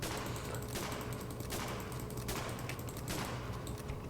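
Gunfire from a weapon in the Roblox game Westbound, a dense, steady barrage of shots under constant noisy game ambience, fairly faint, with no talking.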